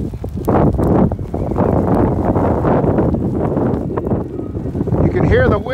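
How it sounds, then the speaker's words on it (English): Gusty wind blows across an outdoor microphone in Harlan, Iowa ahead of a February snow storm, gusting to about 35–40 mph, a loud steady rumbling roar with rustling bursts throughout. "You can hear the wind probably."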